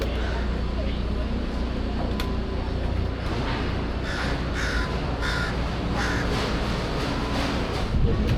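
A crow caws repeatedly and agitatedly at a cruise ship pier, a series of harsh calls standing out over loud continuous engine and ambient rumble, with people talking nearby.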